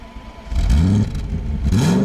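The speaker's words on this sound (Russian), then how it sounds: "Как хорошо работает тачка." A BMW E34 540 V8 engine roars and revs up in rising surges, loud and close, with a steady idle rumble between the pulls.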